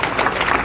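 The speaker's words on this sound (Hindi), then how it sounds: "एक बार जोरदार तालियों से उनका स्वागत कीजिए।" Applause welcoming the chief guest at an environmental award ceremony in a university hall, a brief, loud, dense burst of many hands clapping together.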